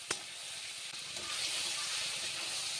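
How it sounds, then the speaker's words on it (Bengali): Fish frying lightly in shallow oil for a prawn and ash gourd dish, a steady broadband sizzle that swells after a brief sharp tick at the start and holds close and even, with no talk. "মাছগুলোকে ঠিক এইভাবে ভেজে নেব, একটু হালকা করে ভাজবো"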